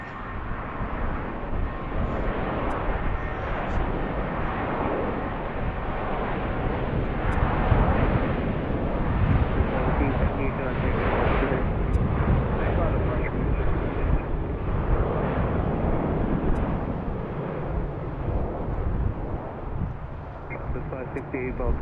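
A Southwest Boeing 737-700 jet at BWI airport roars in a broad, sustained rumble that builds and fades over many seconds, with a voice talking over it.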